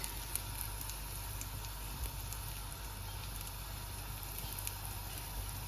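Oil sizzles in a frying pan on a gas stove, a steady, even crackle and hiss that runs unbroken throughout with a low hum beneath.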